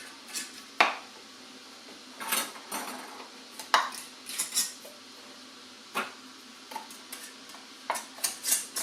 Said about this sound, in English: The ring goes on, finger tight.